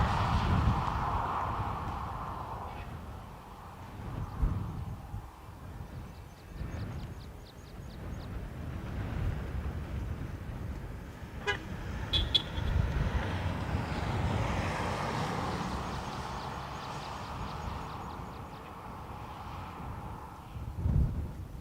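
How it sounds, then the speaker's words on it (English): A Hainan Airlines Airbus A330 takes off at Dublin Airport, a low jet engine roar building and fading over about twenty seconds, heard from a distance against wind noise with no talking. "Hainan A330 to Beijing"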